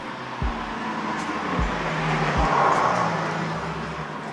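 A car drives past on a road, a broad rising and fading rush of tire and engine noise that swells to a peak midway through, with a low hum running underneath.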